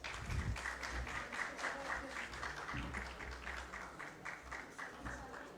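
Audience at a scientific conference applauds, a steady wash of many hands clapping at moderate distance, with a few low thumps near the start and a voice briefly audible underneath.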